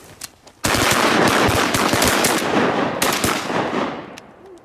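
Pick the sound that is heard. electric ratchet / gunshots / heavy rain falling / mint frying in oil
gunshots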